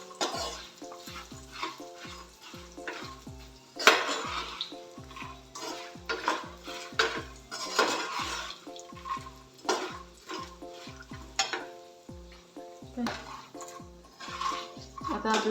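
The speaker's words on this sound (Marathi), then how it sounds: "हे सगळं आता आपण व्यवस्थित याच्यामध्ये रोस्ट करणार आहोत" Chili powder, turmeric and spices roasting in oil in a pan for makhana chivda, with steady close stirring scrapes, light clinks of a spoon against the pan and a soft sizzle running throughout.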